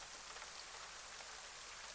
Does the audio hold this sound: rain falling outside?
yes